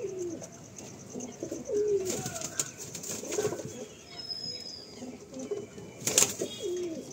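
Female pigeons of several domestic breeds cooing in a home loft, soft repeated coos near and overlapping, with wing flutters and faint chirps in between.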